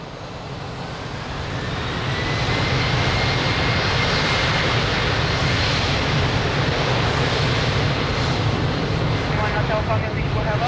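A fixed-wing airliner takes off from runway 02 at Lisbon Airport, its jet engines swelling into a loud, steady roar that holds for most of the clip.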